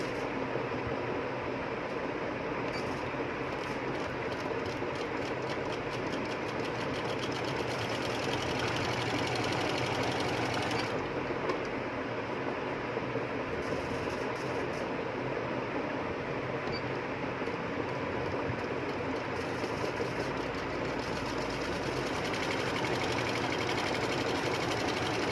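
A domestic sewing machine runs steadily as it stitches a baby skirt, a continuous mechanical whirr with a faint rhythmic clatter, close and without talk, holding an even level throughout.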